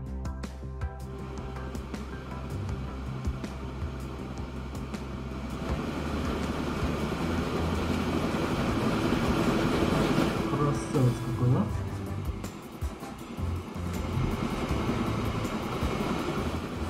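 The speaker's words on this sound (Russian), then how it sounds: "И вот наш поезд, смотрите-ка, уже потихонечку возвращается, да?" A train runs in Transport Fever 2 with a steady mechanical rumble that swells and grows louder midway, then stays constant, along with a few higher clanks.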